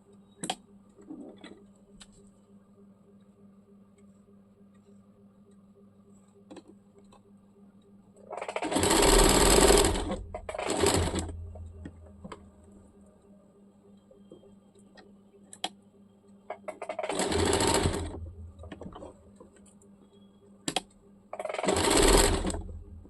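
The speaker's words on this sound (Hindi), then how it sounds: "इसको हम लोग इस प्रकार से दाब सिलाई डाल देंगे" Sewing machine stitching a churidar in a beginners' sewing class, running in short bursts of a second or two with quiet pauses and faint clicks between them, close and fairly loud.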